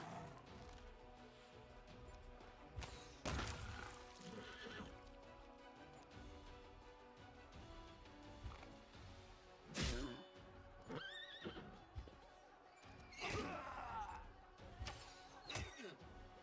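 Horse neighing in the Pathfinder: Wrath of the Righteous game, several sharp whinnies and snorts amid clattering combat effects and background music.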